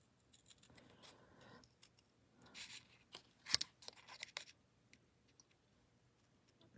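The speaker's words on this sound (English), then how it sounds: "And cut around his other little ear." Scissors snip in short quiet bursts, cutting around the ear of a small paper otter head, close by and faint, with a few sharper clicks midway.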